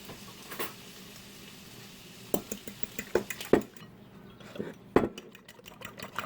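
Eggs being beaten in a bowl for keto shrimp fried cauliflower rice, heard as quick clinking and tapping strikes of a utensil against the bowl that start after a couple of seconds, with a faint background sizzle.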